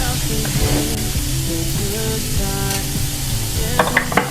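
Ginger, garlic and seeds toasting in a pan with added liquid for a curry, a steady close, loud sizzle with stirring scrapes throughout and a few crisp pops toward the end.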